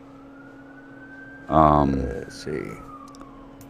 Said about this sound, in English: I hear a siren outside right now